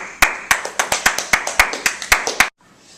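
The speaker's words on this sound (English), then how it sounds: "Let's give them a round of applause." Audience clapping for two student presenters at the end of a class show, about a dozen sharp, evenly spaced claps from a small group, loud and close, then stopping abruptly.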